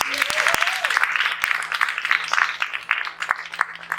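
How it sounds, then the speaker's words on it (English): Graduating college class at a ceremony applauding themselves, a moderate ripple of clapping with a few sharp louder claps over a faint steady hum. "Give yourself a round of applause"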